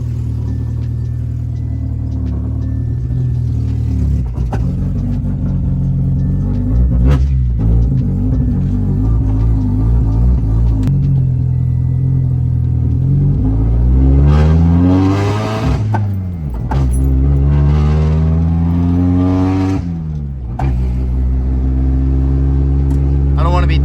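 Honda Civic with a D-series engine pulling away and accelerating through the gears around a neighborhood, revs climbing and falling in repeated sweeps, loud and close with a steady rumble between shifts.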